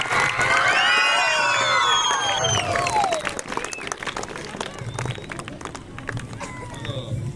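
An audience of children and adults at a school ceremony honouring award-winning teachers bursts into loud clapping, cheering and shrill shouts that gradually thin into scattered claps and chatter.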